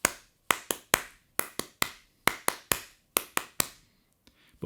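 Crisp, dry snare drum forward three-stroke ruffs played in quick clustered groups, each flurry of short grace notes leading into an accented hit, repeated in a steady swung pattern.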